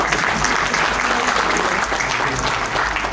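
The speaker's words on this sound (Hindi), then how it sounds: "तालियां बजाने को दिल चाह रहा है तो भरपूर बजाइए।" Audience at an international mushaira and kavi sammelan poetry gathering in Bahrain applauds, a dense, loud, continuous burst of many hands clapping close by without letup.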